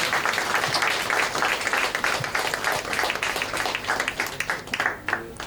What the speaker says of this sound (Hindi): थोड़ी और जोरदार तालियां होना चाहिए।